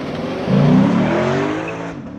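A Lexus RC F Track Edition (2021) makes a hard launch with a burnout, its engine note surging loudly at about half a second into a sustained roar that tapers off near the end.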